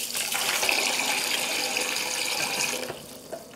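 Hot water pours from a tap into a container while coloured Carefresh small-animal bedding is being shredded, a steady near gushing splash that thins toward the end.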